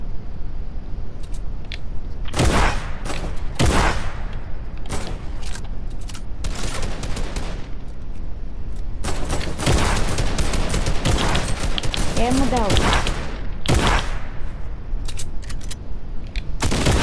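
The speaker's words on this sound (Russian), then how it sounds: "Он сейчас будет по мне стрелять." Gunfire in the video game Fortnite: bursts of rapid automatic shots crack out repeatedly, with dense volleys clustered in several stretches and short gaps between them, loud and close throughout.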